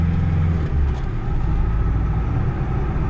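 A car drives through Vladivostok, heard from inside with a loud, steady low rumble of engine and road noise. The drone is continuous and close, with no clear talk.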